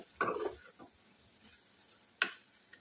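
Mutton fries with curry leaves in a pan on a gas stove: two short, sharp stirring scrapes stand out over a faint, soft sizzle.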